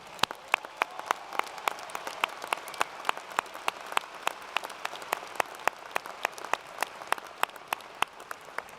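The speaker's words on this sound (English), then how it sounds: "Everyone, a round of applause for all of these graduates." Graduates at Washington State University's 2015 fall commencement receive a round of applause, heard as a steady, fairly faint crowd clapping with distinct individual claps standing out in a regular pattern.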